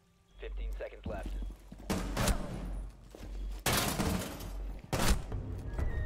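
Rapid bursts of gunfire from a Rainbow Six Siege ranked match on the Emerald Plains map, loud and close, several volleys separated by short pauses with impacts between them.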